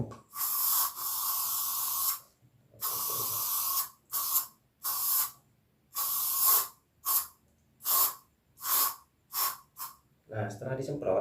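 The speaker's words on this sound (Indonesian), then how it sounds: "kita semprot aja seperti ini." A cleaner is sprayed onto a violin in a long run of hissing bursts, starting with sustained sprays and moving to short, evenly spaced pumps, close and fairly loud with brief silences between.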